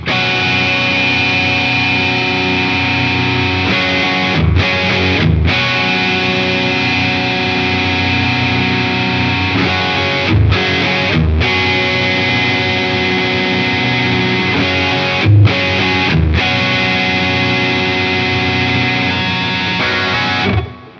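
Overdriven electric guitar through a Carl Martin Panama or DC Drive overdrive pedal, playing sustained, crunchy chords with brief pauses between phrases, loud and continuous.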